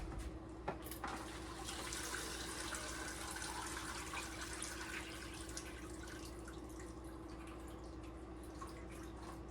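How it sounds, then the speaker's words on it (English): Cooked pasta for baked mac and cheese being drained: a faint, continuous wash of pouring water runs under a low hum, with a soft drip near the start and no speech. "We're gonna go drain this"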